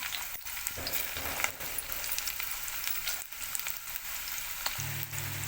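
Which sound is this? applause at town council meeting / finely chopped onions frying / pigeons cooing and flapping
finely chopped onions frying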